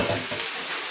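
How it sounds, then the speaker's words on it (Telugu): A wide spoon stirs chillies and tomatoes in a frying pan for a potato and bitter gourd curry, giving a steady close hiss and scrape that runs the whole time with no talking. "ఇలా కొంచెం వెడల్పుగా ఉన్న స్పూన్తో కలుపుకుంటాం"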